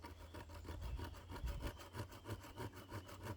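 Steady back-and-forth sawing through an old, partly burnt wooden spoon, a quick rhythmic rasp repeating close up with no talking.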